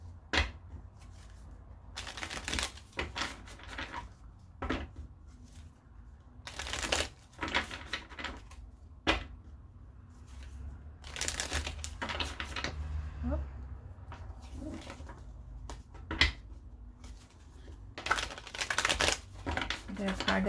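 Tarot cards being shuffled by hand during a reading, giving repeated bursts of riffling and slapping at a close, moderate level, with quieter gaps between them.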